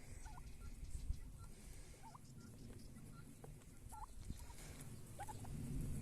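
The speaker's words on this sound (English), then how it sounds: "Turkeys!" Several turkeys gobble repeatedly at a distance on a rural Portuguese smallholding, the burbling calls rising in short bursts over a steady outdoor background hum.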